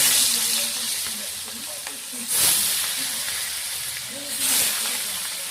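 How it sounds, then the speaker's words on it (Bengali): Pieces of rohu fish sizzle in hot oil in a wok with a steady broadband hiss, and two louder bursts of spitting arrive as more fish is lowered in. A low voice murmurs faintly underneath. "তেলটা গরম হয়ে গেছে, এক এক করে মাছগুলো আমরা ছেড়ে দেবো"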